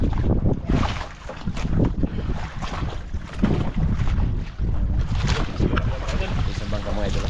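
Fishing boat passing out at sea after a storm: a steady, dense engine rumble blended with heavy wind buffeting the microphone, continuous and loud throughout.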